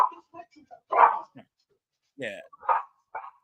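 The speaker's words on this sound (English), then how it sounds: "I gotta let these dogs out." Dogs bark in short separate bursts at a home, some close and sharp, with brief gaps of silence between them and a person saying a word in the middle.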